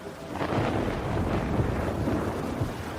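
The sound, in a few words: storm sound effect at sea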